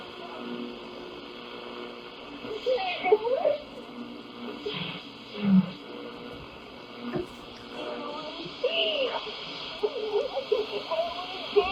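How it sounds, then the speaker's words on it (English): A static-filled radio signal wavers in and out, a steady hiss broken by faint warbling tones and brief swells of noise throughout, with no clear speech coming through. "The signal continued wavering in and out throughout the recording, with her voice rising and disappearing beneath the noise."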